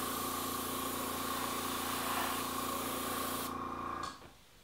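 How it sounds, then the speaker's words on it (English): An airbrush driven by an air compressor sprays Pro-Line R/C body paint, a steady loud hiss with a constant motor hum beneath, cutting off abruptly near the end. "I'm just gonna start off in the masking area to see how it sprays"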